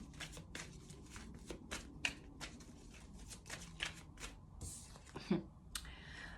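Tarot cards riffled and shuffled by hand in repeated quick bursts, a soft papery flutter with occasional taps, fairly close and quiet, with no talking.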